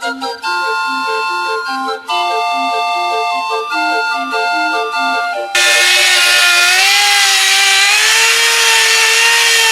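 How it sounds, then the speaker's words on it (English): Power sanding of a collision-repaired body panel on a 1933 Ford Coupe: musical tones fill the first half, then a loud, steady sander roar with a wavering whine takes over and continues to the end. "Okay, I got that sanded down. It's nice and level."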